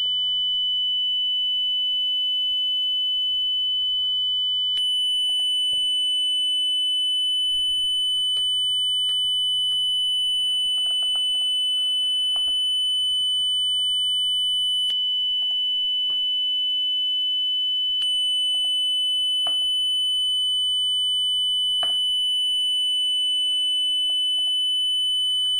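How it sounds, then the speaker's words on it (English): A steady, pure high-pitched 3 kHz sine test tone holds throughout, with a second faint tone cutting in and out and small clicks beneath. "So let's go ahead and turn on the sine wave again."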